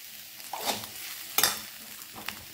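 Chicken thoran with pepper being stirred in a pan, a few soft scraping strokes over a gentle sizzle, close and fairly quiet.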